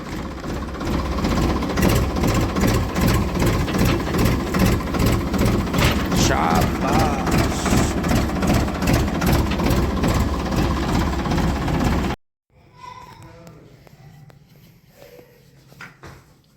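A tractor engine runs loud and steady with a rhythmic chugging knock for about twelve seconds, then cuts off abruptly, leaving quiet background sounds and faint talk.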